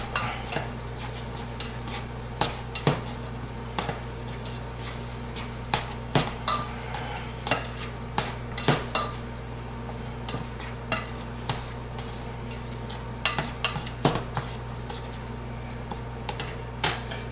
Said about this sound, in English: And then we'll mix the sauce in with the meat.